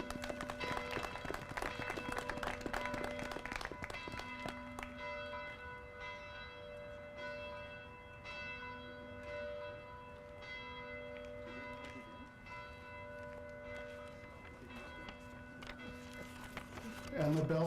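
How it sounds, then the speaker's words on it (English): Church bells ring on and off at an outdoor Louis Riel commemoration, their steady tones carrying under a speaker addressing the crowd over a loudspeaker. "And the bells continue. Keep ringing"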